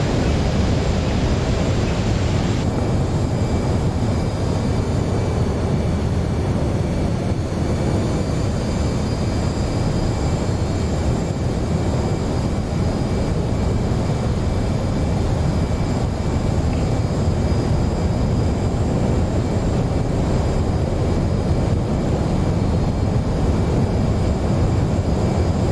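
F/A-18C Hornet jet engines at light afterburner in DCS World, with a steady loud broadband roar and whine that holds continuously throughout.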